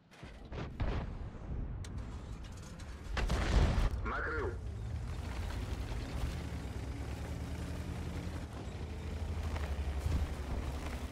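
A heavy booming self-propelled artillery gunshot in World of Tanks rings out over a steady engine rumble, with low game-style noise continuing throughout.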